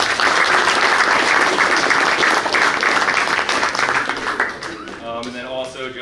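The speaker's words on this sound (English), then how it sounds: "So we can clap it up for the boosters." A banquet crowd at a boys' varsity basketball event applauds the booster club, dense loud clapping filling the room steadily before tapering near the end, with a voice or two emerging underneath.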